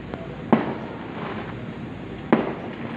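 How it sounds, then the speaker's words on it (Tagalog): New Year fireworks go off with two sharp, loud bangs about two seconds apart, each trailing a short rumble over steady outdoor noise. "Mga nag-aantay ng fireworks dito"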